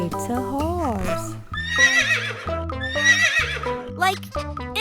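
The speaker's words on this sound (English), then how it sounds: "It's a horse." A horse whinnies loudly, with hoof clip-clops and playful children's music playing underneath.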